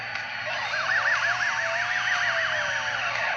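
A police car siren in the video game Turbo Dismount wails steadily up and down in a rapid, repeating rise and fall, loud and continuous throughout, with no talking.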